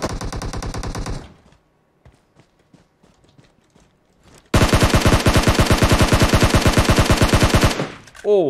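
Automatic gunfire in PUBG Mobile, a long rapid burst of loud, close shots, then scattered quieter shots and footsteps, followed by another sustained heavy burst that cuts off near the end.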